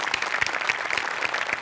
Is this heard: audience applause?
yes